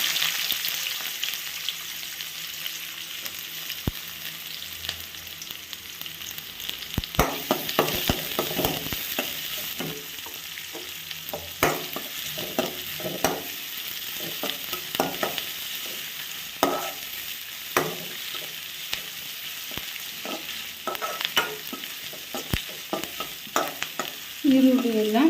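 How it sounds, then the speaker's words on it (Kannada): Chopped onions with chana dal frying in an oil-filled pan while being stirred, a steady close sizzle broken by repeated scraping strokes of a spoon against the pan, with no talking. "ಈಗ ಈರುಳ್ಳಿ ಹಾಕ್ಕೊತಾ ಇದ್ದೀನಿ"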